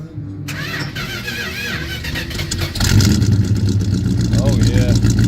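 A 1968 Plymouth Satellite custom cop car engine cranks and catches, then settles into a loud, rough idle that rises into a deeper, heavier rumble as it revs, with people talking nearby.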